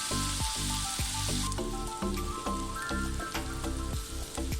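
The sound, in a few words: pounded spices frying in a pan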